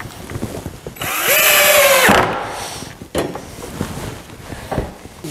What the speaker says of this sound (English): I got these silver looking screws, and I'm attaching them with decorative washers.